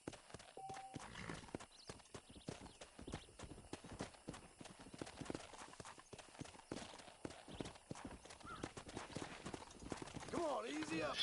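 Horse hooves clip-clop steadily through a Red Dead Redemption game scene, a close rhythmic trot that slows near the end with a brief whinny, while someone talks over it.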